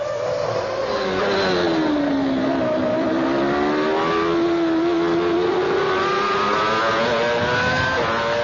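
1995 Formula One cars, Blundell's McLaren and Barrichello's Jordan, battle for fourth place. A loud, close engine whine rises and falls steadily throughout, with no voices.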